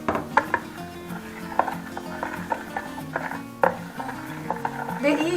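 Bulgur being stirred with salt and warm water in a bowl, with soft clinks of a spoon against the dish and wet scraping in a steady, uneven rhythm, close by and moderate in level.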